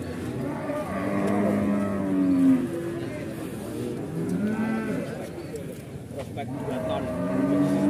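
Cattle at a livestock market moo repeatedly, several long low calls close by, amid a bustling background where people talk.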